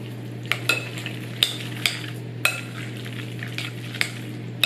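A spoon stirs lime juice into a pork nacho mixture with sharp, regular clinks and scrapes against the bowl, about ten strokes over a low steady hum.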